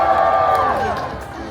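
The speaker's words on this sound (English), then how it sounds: "everybody, cheer on." A crowd cheers at a contest at the Sydney Royal Easter Show, a brief burst of loud, close cheering and whoops that fills the whole moment.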